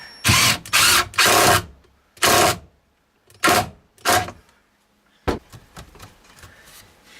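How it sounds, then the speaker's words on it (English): A screw is driven into a window frame while installing and flashing windows on a tiny house, heard as several short, loud bursts of whirring driver noise separated by pauses, with a few lighter clicks and handling sounds at the end. "So I just need to pull that out and then drive this screw in"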